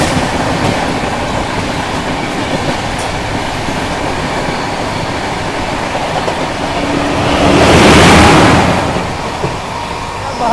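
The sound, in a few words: Bihar Sampark Kranti Express train running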